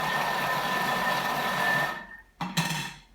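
A lidded kitchen machine whisks a sugar-free salted caramel mixture with pink salt, giving a steady motor whir with a faint whine for about two seconds before it stops, followed by a brief clatter.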